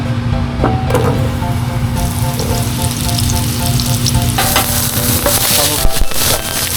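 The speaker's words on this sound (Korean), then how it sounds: "일단 버섯부터 볶을 거라서 버섯 넣어줄게요. 기름 두르고" Mushrooms sizzle and crackle in a hot oiled pan, with scraping and stirring noises throughout, loud and up close.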